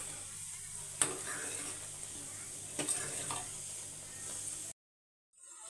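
A pot of sweet pongal bubbles softly on the stove with a steady low hiss, broken by a couple of brief clinks, then cuts to silence near the end.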